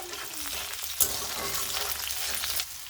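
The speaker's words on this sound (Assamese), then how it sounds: "মোৰ পিঁয়াজখিনি ভজা হৈ গৈছে" Onions sizzling in hot oil with bay leaves and cinnamon for a duck curry, a steady crackling hiss with a brief sharp clink of a utensil partway through.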